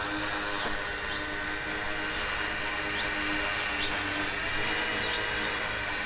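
A small K127 remote-control helicopter whines steadily with a high-pitched motor and buzzing rotor, constant and close for several seconds, no voices.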